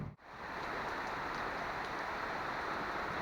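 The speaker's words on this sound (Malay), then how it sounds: "Petang ni hujan lah." Steady, dense sun-shower rain pouring down close by in Malaysia, a continuous even hiss after a brief quiet moment at the start, with no voices.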